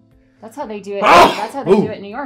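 A single sharp sneeze bursts out loudly in the middle of a man's speech, with talking continuing just before and after it.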